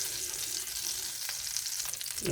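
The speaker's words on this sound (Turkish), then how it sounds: "Yine aynı tavamızın içerisinde tereyağımızı eritiyoruz." A tablespoon of butter melts in a frying pan, giving off a steady, soft sizzle and crackle, with a brief scrape of the pan near the end.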